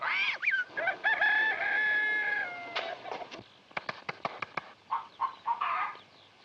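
A rooster crows among hens in a farmyard, a long drawn-out call up front, followed by scattered short clucks and sharp chicken calls, moderately faint with no talking.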